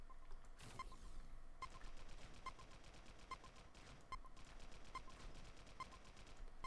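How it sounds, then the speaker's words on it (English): Enemy gunfire aimed at the player in the video game Global Agenda, rapid repeated shots in an even rhythm, faint and distant, with no talk over it. "Whoa, these dudes are shooting at me."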